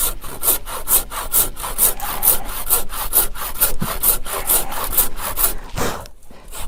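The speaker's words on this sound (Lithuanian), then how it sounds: "Tam reikalui aš įsigijau pjūklą ilgesnį." A long hand saw cuts lengthwise through a wooden beam in a steady, loud back-and-forth rhythm of rasping strokes, alone and close, then stops briefly near the end.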